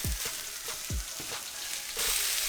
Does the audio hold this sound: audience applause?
no